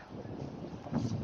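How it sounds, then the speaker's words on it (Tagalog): Wind buffets the microphone in low, rumbling gusts, swelling stronger near the end. "So, mahangin."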